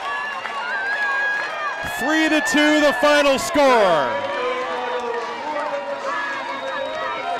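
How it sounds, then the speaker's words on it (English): A stadium crowd erupts in wild cheering after the Netherlands beat Spain 3-2 to win the 2016 European Baseball Championship final. The roar stays steady and fairly loud beneath an excited commentator talking over it. "this crowd is going wild"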